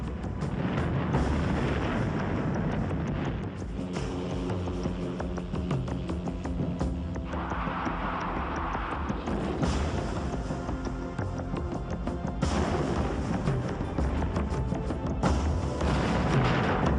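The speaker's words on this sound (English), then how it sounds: "the gunner was able to launch a third strike against a mock convoy with a massive barrage of rockets" A massive rocket barrage from an attack helicopter slams into a mock convoy, a dense continuous rumble of blasts and booms rolling on with no clear pauses, heard from a distance.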